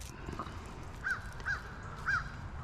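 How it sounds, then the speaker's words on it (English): A crow caws three times outdoors, short harsh calls spaced about half a second apart, faint and somewhat distant over a steady low background rumble. "Hush up, Crow."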